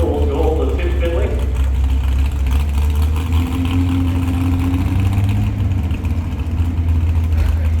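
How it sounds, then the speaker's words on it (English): A tractor pull truck's engine rumbles at a heavy, steady idle at the Midland Fair truck and tractor pull, loud and low beneath an announcer talking over it. "There we go, there's one of the motors fired up there."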